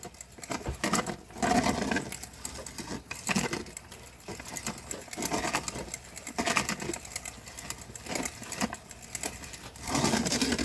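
Cooked apples pressed through a hand food mill into applesauce, a continuous grinding, squelching churn with repeated scraping strokes, close and fairly loud, with no talk.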